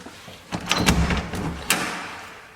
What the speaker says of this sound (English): Come, we'll open the door to this room here.